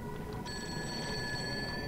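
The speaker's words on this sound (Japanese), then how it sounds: "え、電話鳴ってる？" A telephone rings inside the horror video game Fatal Frame: Maiden of Black Water, a steady electronic trill that starts about a quarter of the way in and holds over a faint ambient backdrop.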